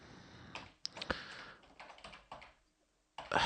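Typing C++ code on a computer keyboard: short bursts of close, crisp key clicks with brief pauses, a silent gap, then a louder flurry of keystrokes at the end.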